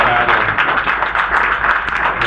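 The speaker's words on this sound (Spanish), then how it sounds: "un aplauso, por favor" An audience at an informational conference on public management breaks into applause, a dense, even wash of many hands clapping together, loud and sustained for a couple of seconds.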